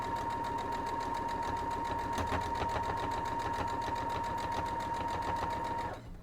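A sewing machine stitches a cloth napkin with a steady, loud mechanical whir, a constant motor hum with rapid needle rhythm running for about six seconds before cutting off abruptly.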